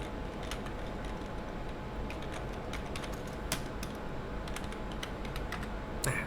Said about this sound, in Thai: พิมพ์คำสั่งโฮส t n เนมใหม่นะครับ